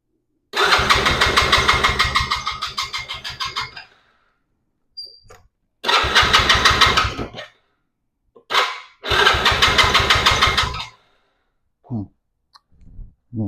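A 110cc Chinese ATV engine with an intermittent spark fault cranks in three loud, rapid rhythmic bursts of a few seconds each, separated by silences and a few faint clicks.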